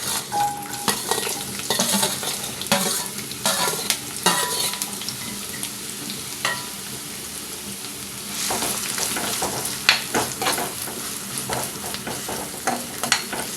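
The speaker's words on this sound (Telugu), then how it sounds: "ఇప్పుడు ఉల్లిపాయలు పచ్చిమిరపకాయలు వేసి వేయించుకుందాం" Onions and green chillies sizzle steadily in hot oil for mutton keema, with repeated scrapes and clinks of a spoon stirring against the pan throughout.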